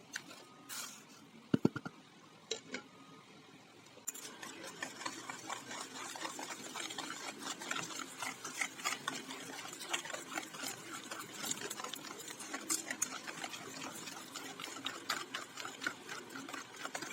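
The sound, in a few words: electric mixer beating eggs and sugar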